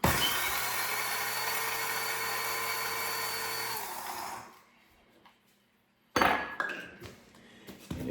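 A kitchen appliance grinds Quaker oats into oat flour, a loud steady whirring drone that cuts off after about four seconds, followed by quiet and then a few clinks and knocks near the end.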